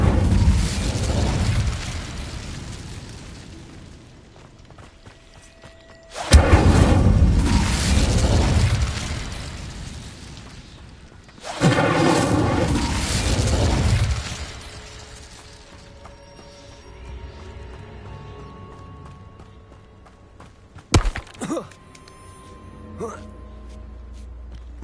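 Fire spells cast in the video game Hogwarts Legacy burst out as several loud, sudden blasts separated by quieter stretches, each flaring hard and then trailing off, with a smaller sharp crackle near the end.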